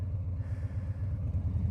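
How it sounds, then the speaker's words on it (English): Motorcycle engine idling low and steady, its throttle opened slightly so the revs climb a little, a continuous close rumble with faint clatter and no voices. "You hear the revs come up a little bit,"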